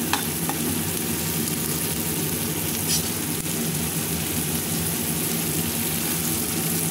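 Red chilies fry in a hot pan, a steady dense sizzle running throughout with a few brief clinks of stirring, close and alone with no talk.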